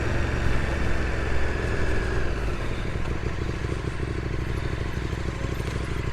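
A 2019 KTM Super Duke R rides through Cambridge streets, its engine a loud, close, steady rumble with rattling mechanical clatter and a slight drop in pitch partway through, with no voices.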